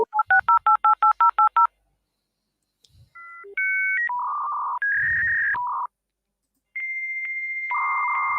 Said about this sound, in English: You got to dial us up.